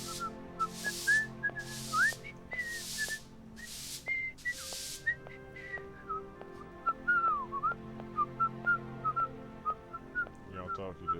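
Whistled melody from a game character sweeping in Syberia, wavering tones over soft background music, with several broad brushing swishes of the broom early on.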